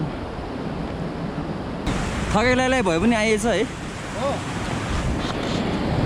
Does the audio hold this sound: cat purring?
no